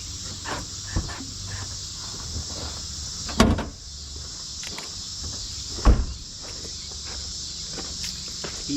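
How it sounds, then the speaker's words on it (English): Opening the hood of a 2007 Chevy Silverado 1500 Classic: two sharp mechanical clunks of the latch and hood release, a few seconds apart, over a steady background of chirping crickets, with small rustles and handling noises between. "you gotta get the dang hood open."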